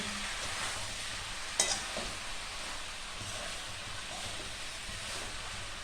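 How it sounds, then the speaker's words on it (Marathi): Hakka noodles and vegetables sizzle in a hot pan as they are stirred together, a steady soft frying hiss with light scraping and one brief sharp clink of the utensil. "आता हे ह्याच्यामध्ये ना आपण हे हलवून घेऊया भाज्या सगळ्या मिक्स करून घेऊ"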